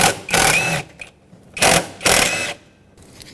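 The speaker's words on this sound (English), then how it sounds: "Use a 10mm socket and remove the two bolts holding this intake piece on." A 10mm socket on a ratchet removes bolts from an intake piece on a 2011-2016 Ford F-350 with a 6.2L V8, giving two loud close bursts of rapid ratcheting clicks separated by short pauses.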